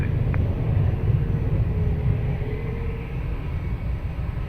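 A steady low rumble of an airplane at Lisbon Airport, likely a jet taxiing or passing at a distance, holds constant throughout with no voices.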